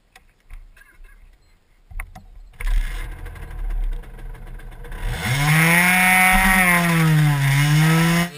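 A moped engine runs after a quiet stretch of faint knocks, rising into a loud, steady buzzing drone whose pitch dips and swells over the last few seconds.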